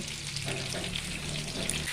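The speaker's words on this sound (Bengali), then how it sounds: "এগুলোকে বেশ ভালো কড়া কড়া করে ভেজে নেব।" Fish frying crisp in a pan sizzles with a dense, steady hiss throughout, close and even, with no talking.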